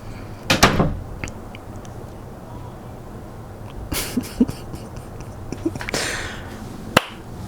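A door thuds shut in a quiet room, with a few scattered knocks and rustles around it and one sharp final click, all faint and close.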